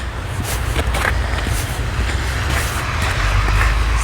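A C-Train passes near Somerset station in Calgary on a snowy day, a loud continuous low rumble with rolling rail noise and faint higher clatter, steady throughout with no talking.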